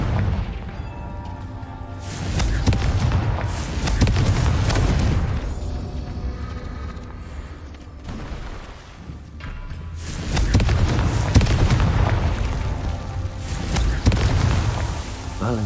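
Confringo fire spell blasts in Hogwarts Legacy gameplay, deep booming explosions with rumbling crashes in two loud waves, with a spoken voice briefly heard between them.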